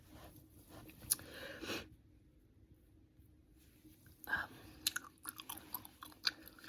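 Gum being chewed close up in a whispered ASMR setting, with soft wet smacks and small crunchy bursts coming in irregular clusters between quiet gaps, fairly faint and with no voice over it.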